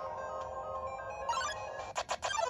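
Phone ringtone from the Undertale video game on Nintendo Switch, a soft repeating electronic melody with a few brighter chiming notes near the end, no talk over it.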